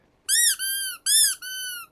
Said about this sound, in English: how to make your Toy Story collection alien squeak